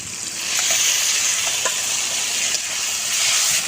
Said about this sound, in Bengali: বেটে রাখা মশলাগুলো দিয়ে দেবো তেলে।